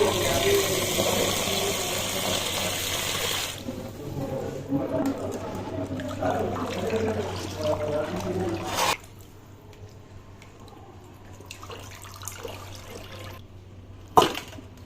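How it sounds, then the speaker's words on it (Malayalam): Chicken pieces washed under running water in a kitchen, a steady gushing splash for several seconds that cuts off, followed by quieter handling noises, with someone speaking over it. "ചിക്കൻ നല്ലപോലെ കഴുകി വൃത്തിയായി എടുത്തിട്ടുണ്ട്"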